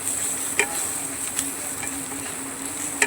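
Spices sautéing with turmeric and chilli powder in a pan, a soft steady sizzle with a few sharp clicks of a spoon against the pan, close and fairly quiet.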